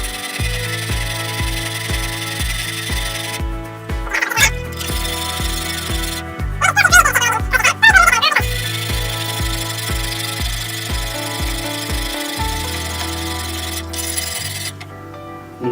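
A knife is sharpened on the 200 grit stones of a Wicked Edge GO. Steady, repeated gritty rasping strokes continue throughout, close and fairly loud, over a background of music.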